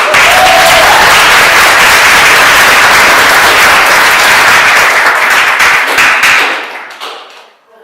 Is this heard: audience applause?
yes